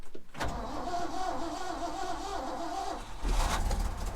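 An old truck cranks for several seconds with a rhythmic churning, then the engine catches and runs, heard close and fairly quiet with no speech.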